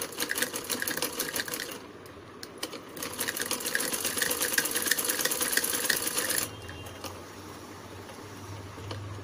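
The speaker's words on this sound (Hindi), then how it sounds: "आप चाहे तो इसको ऐसे ही स्टिच कर सकते हैं।" A sewing machine stitches a blouse back neck design in quick rapid bursts, loud and close, pausing briefly, then running again before stopping, leaving a low hum; no one speaks.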